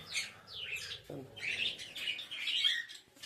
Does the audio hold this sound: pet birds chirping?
yes